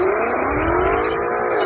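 A Mustang of around 500 horsepower accelerating hard, with a loud, steady engine roar and tire noise, close and continuous with no talk.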